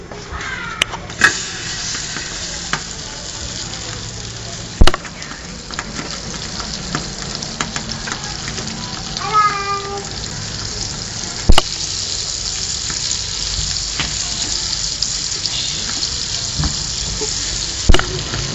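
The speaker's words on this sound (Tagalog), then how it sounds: "Heat the pan, then melt the butter." Butter melts and sizzles in a heated pan ahead of a squid stir-fry, a steady soft frying hiss throughout with a few sharp clicks and clatters of utensils scattered over it.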